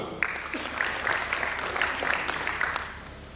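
An audience at a stage play keeps up applause for chorus cast members being introduced, a sustained mid-level clapping wash with a few louder bursts, partly blended with a voice.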